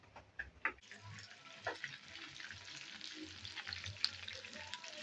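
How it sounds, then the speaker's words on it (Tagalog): Chicken frying in hot oil, a steady crackling sizzle with scattered pops and a few ticking clicks, close by and moderately quiet. "Prito na yung manok."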